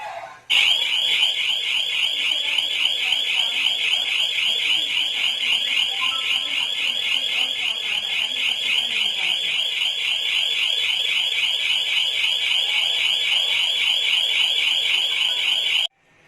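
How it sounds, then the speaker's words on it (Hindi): A motion sensor security alarm, switched on by remote, starts abruptly with a loud, piercing electronic siren that wails continuously with a rapid warbling pulse, then cuts off sharply. "इसके सामने कोई भी मूवमेंट करे या कोई इसके सामने चला जाएगा तो सायरन बजेगा"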